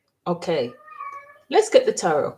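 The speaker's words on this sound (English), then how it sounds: "I'm sorry about my cat. She's in heat at the moment" A female cat in heat gives a single drawn-out meow, fairly soft and indoors, sandwiched between bursts of a person speaking.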